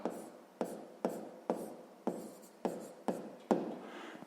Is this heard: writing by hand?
yes